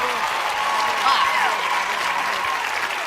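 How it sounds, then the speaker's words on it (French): Talent show audience at France Got Talent applauding an act, thick sustained clapping with crowd cheers, while a host speaks over the noise. "Merci de les applaudir encore, s'il vous plaît"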